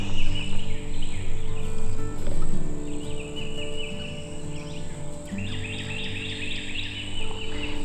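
Wild birds sing along a hiking trail at Gilchrist Blue Springs in Florida, with repeated high chirping phrases over a steady insect-like drone and a soft outdoor background, no talking.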